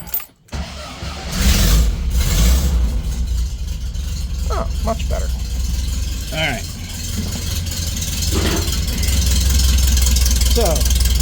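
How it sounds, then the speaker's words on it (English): A car engine starting after a distributor install, a brief crank and catch followed by a steady, slightly low idle with a light rattle, close by, with someone talking briefly over it. "now we have a running car again. Idle's a little bit low, but not crazy."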